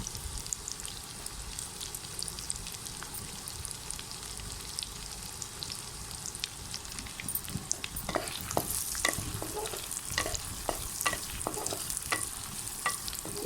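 Onion frying lightly in a pan, a steady soft sizzle with sharper crackles and stirring scrapes growing busier in the second half, with no talk.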